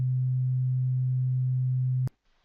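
A steady 128 Hz pure sine tone sounds loud and unchanging for about two seconds, then cuts off abruptly, leaving near silence.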